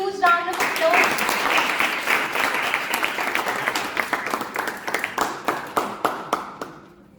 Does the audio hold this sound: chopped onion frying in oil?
no